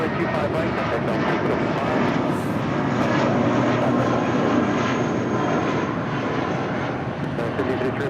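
JetBlue Airways A320 jet departing Los Angeles International Airport, a steady broadband engine roar held at constant strength throughout, heard from a distance outdoors with no speech over it.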